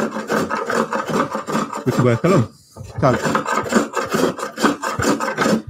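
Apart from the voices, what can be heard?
spokeshave shaving wood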